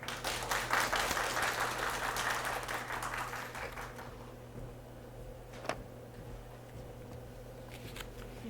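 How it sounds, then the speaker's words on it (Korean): Audience clapping to welcome a guest lecturer at a Chungcheongbuk-do urban regeneration results event, a dense burst of applause that thins and fades after about four seconds, leaving a quiet hall with a few scattered sounds. "여러분 큰 박수로 맞이해 주시기 바랍니다"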